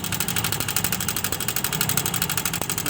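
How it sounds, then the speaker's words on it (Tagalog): A Honda Click 125 scooter engine with a failing oil pump runs noisily, a steady close idle with a rapid, even ticking clatter throughout. "Maingay ang makina."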